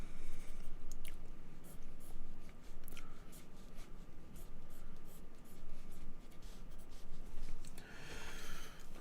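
A 2H graphite pencil shades tree trunks on paper in a spring meadow drawing, a steady close scratchy scribbling with rapid back-and-forth strokes and brief pauses throughout.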